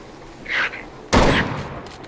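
Gunshots firing tracking bullets in the hunting video game Bigfoot, a softer pop followed by one loud sharp shot that fades into a short echoing tail.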